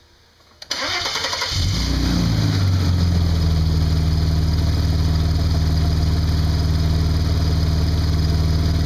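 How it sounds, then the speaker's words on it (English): A 2002 Audi S4 engine, just fitted with a new coil pack, cranks briefly and catches, then settles into a loud, steady idle with a constant low hum that runs uninterrupted to the end. "we're just going to give it a start up, make sure everything's good"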